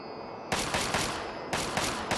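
Rapid gunfire in Fallout 3 comes in two loud, close bursts of quick repeated shots, separated by a short, quieter gap.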